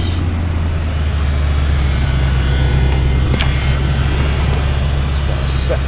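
A 1993 Ford Mustang LX Fox Body with its 5.0L V8 rolls along on a test drive, a steady loud low engine drone and road rumble filling the cabin without a break.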